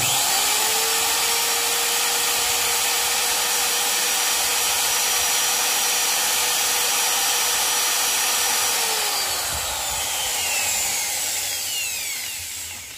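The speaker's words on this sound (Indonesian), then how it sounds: "Ketika bor saya nyalakan, kita bisa lihat di sini beban bor" An electric drill drawing about 200 watts from a 1300-watt pure sine wave power station whirs steadily at a high pitch for several seconds, then winds down, with a continuous mechanical drone throughout.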